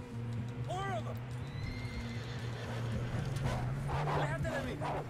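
Horse in Red Dead Redemption 2 whinnying in a rising, wavering call near the start and again toward the end, with clip-clop hooves and a steady low game rumble running underneath.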